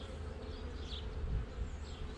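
Honeybees buzzing around an open hive during an inspection of brood frames: a soft, steady swarm hum with individual bees droning past nearby, faint and continuous, no talk.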